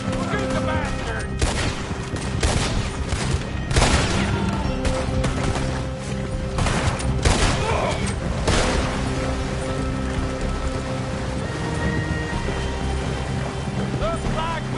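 Video game gunfire rattles in dense, loud bursts of rapid shots with explosive cracks and a continuous noisy battle din, while voices talk and shout over the action.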